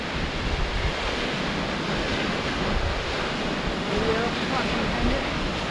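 The Twin Falls waterfall pours in a dense, continuous roar heard close up amid drifting mist, loud and unbroken from start to finish, with faint voices under it.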